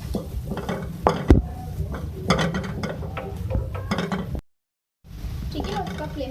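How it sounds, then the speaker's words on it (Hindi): A spoon stirs chaat masala into potato paratha filling in a pan, giving repeated scraping and clinking strokes with faint sizzling, broken by a short silence. "इसको मिक्स करेंगे।"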